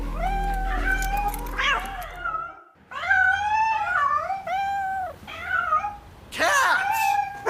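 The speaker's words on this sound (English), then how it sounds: "Cats!" Several cats meow and caterwaul in loud, drawn-out wavering cries, broken by short pauses, over a low background hum.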